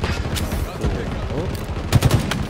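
Rapid, loud minigun fire in a Halo multiplayer Big Team Battle match, a continuous rattling burst running through the whole moment, with a few heavier thumps near the end.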